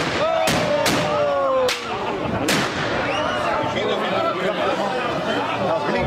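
Four sharp, loud gunshot bangs ring out at a traditional St. Martin's market festival, each with a short echo, over a crowd's murmur; a person exclaims briefly.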